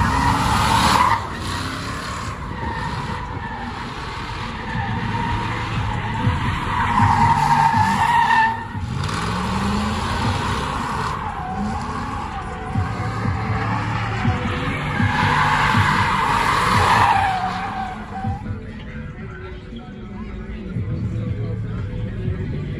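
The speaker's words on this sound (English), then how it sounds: "Look at Kazi always want to give out some goddamn drift lessons." Cars drift at a Sunday meet, their tires squealing in long, repeated skids over engine noise, some passes louder and closer than others, with people talking in the background.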